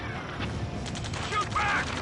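Video game firefight in Ace Combat 7, with scattered gunshots and bursts crackling under shouted combat voices, fairly dense and mid-distance, mixed with other battle noise.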